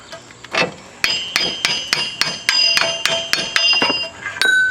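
Large hammer striking the steering knuckle to free a Chevrolet TrailBlazer lower ball joint, about a dozen sharp ringing metallic blows in a steady rhythm, close and loud.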